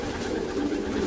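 Pigeons in a pigeon loft give soft, low cooing that is close and continuous for a brief moment, with no talk over it.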